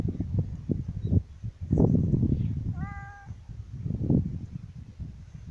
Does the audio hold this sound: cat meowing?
yes